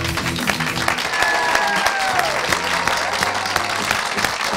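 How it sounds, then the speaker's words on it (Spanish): Applause for a Venezuelan Kentucky Derby-winning jockey at a television interview, a sustained burst of clapping from an audience with faint tones and a voice underneath. "Un fuerte aplauso al gran jockey venezolano"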